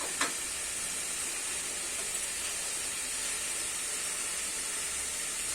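Steady hiss and sizzle of vegetables cooking for chire polao over a gas flame turned up high, a constant close frying noise with a faint clink near the start.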